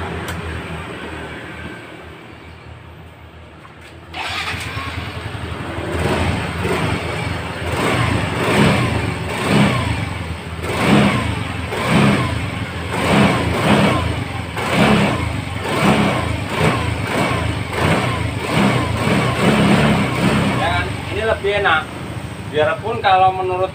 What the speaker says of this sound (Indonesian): kita akan hidupkan apakah motor ini gas-gasannya bisa kontan.